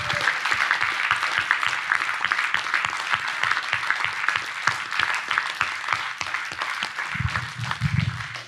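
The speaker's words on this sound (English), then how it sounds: "Maybe everyone can give everyone in the room a big hand of applause" A room full of session participants applauding at the close of a long presentation session: steady, dense clapping from many hands that carries on for several seconds, with a low murmur rising near the end.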